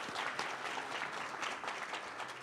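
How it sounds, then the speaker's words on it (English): An audience at a chamber of commerce lunch gives the speakers a sustained round of applause, dense and even clapping from a crowd heard at moderate distance for the whole stretch. "Let's give them a big round of applause for coming and joining us today."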